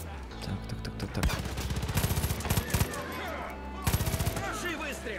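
Rapid bursts of automatic gunfire in a video game come in quick rattling volleys, loud and close, with a voice talking in between and game sounds underneath.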